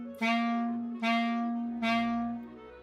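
Three separate clarinet notes on the same pitch, each tongued with a crisp 'do' attack and held briefly, played alone with no talking.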